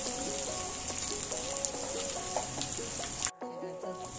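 Oil sizzling steadily in a pan on low heat while besan vadis cook, a soft even crackle with a faint melodic tone running underneath and a brief dropout near the end.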